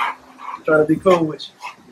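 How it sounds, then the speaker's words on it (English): A large, friendly 120-pound American Bully makes a few short barks and yips close by, mixed in with someone talking over it. "He big, but he a friendly dog, man."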